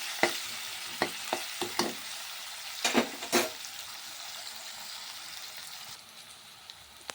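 Onions cooking in oil in a pan, a faint sizzle under a short run of sharp scraping stirs near the start, then a quieter bubbling hiss.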